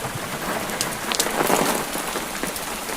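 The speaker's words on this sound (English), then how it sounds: "The rain has settled into a steady rhythm now, neither increasing nor decreasing." Steady, gentle countryside rain falling on surfaces near a Scottish cottage, a continuous dense patter with scattered individual drops standing out, even and unbroken.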